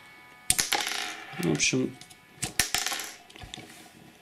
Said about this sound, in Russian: Ракеты вылетают, стандартный механизм, используется щелчок.